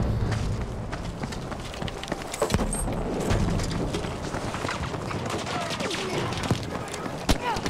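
Dense, rapid machine gun fire in Battlefield V on PC rattles continuously through a loud, busy battle mix, with sharper individual shots punching out at intervals and a voice talking over it.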